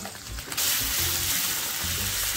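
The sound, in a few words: chicken paste frying with ginger and garlic in mustard oil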